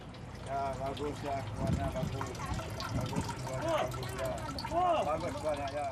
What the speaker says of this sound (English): When you pour the seawater into the soil rich in nutrients and minerals, the water absorbs the soil's nutrients and flow downward.